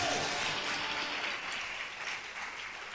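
A church congregation applauds during a special Sunday worship service, a dense, sustained wash of many hands clapping together at a steady, fairly loud level with no voices on top.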